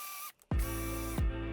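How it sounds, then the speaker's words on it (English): A drill bores pocket holes through a board held in a pocket hole jig while building a standing desk, with a loud, whining spin that briefly stops, then restarts with two sharp bursts. "drill the holes to make the connector for the end board"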